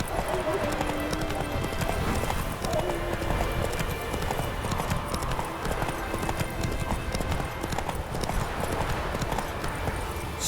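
A horse gallops in The Witcher 3: Wild Hunt, its steady clip-clopping hoofbeats running continuously at close range over a dense bed of game ambience and music, with a brief spoken voice.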